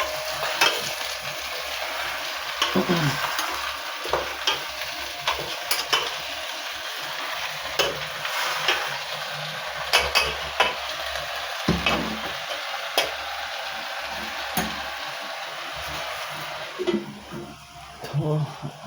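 Tajliya greens stirred and frying in a pan in a rural Gujarati home kitchen, a steady close sizzle with scraping stirs and occasional utensil knocks throughout.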